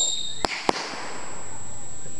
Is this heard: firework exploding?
yes